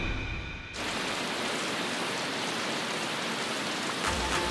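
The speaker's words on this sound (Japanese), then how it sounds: "突然の雨。" Rain starts abruptly and then keeps up a steady, dense downpour on an open harbor pier, with a broad unbroken hiss that holds at constant loudness and no voices.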